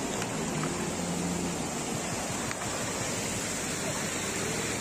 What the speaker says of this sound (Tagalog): So meron tayong nakikita dito na maliit na falls.